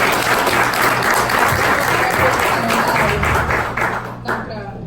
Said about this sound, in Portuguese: E queria só aplaudir esse espaço